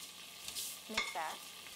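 A spoon stirs fish ball curry in a pan, with a few soft scraping strokes over a quiet background sizzle and no talk.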